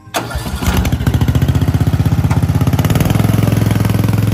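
A Briggs & Stratton riding lawn mower engine catches and runs up to a loud, rapid, even thumping as more throttle is given. The close, steady chug holds to the end without talk.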